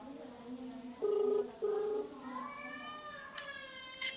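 A phone line ringback plays as two short steady tones with a gap, followed by rising electronic warbles as the call connects, heard over a faint background hum.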